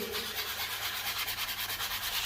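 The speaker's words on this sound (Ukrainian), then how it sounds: "беремо шліфувальний брусочок, це, мабуть, ну, не знаю, десь 300" A handheld sanding block with fine paper, around 300 grit, rubs over dried filler on a damaged exterior wall corner with decorative trim, giving a steady, close, rhythmic scraping hiss with no pauses.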